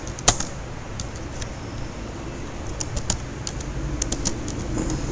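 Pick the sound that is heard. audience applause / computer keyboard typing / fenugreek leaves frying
computer keyboard typing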